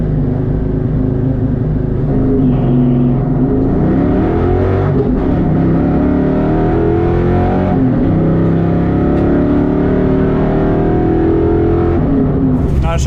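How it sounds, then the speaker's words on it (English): A Mustang accelerates hard down a drag strip, its engine note climbing steadily through the gears with brief dips at each shift, loud and close throughout. "Alright, going up for first run for the drag racing."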